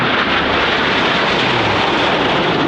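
Frecce Tricolori aerobatic jets at the New York Airshow 2024 produce a loud, continuous broadband jet roar that stays steady throughout.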